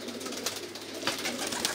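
Pigeons in a coop give soft, low cooing calls, faint and somewhat distant, with a few brief coos over a quiet background.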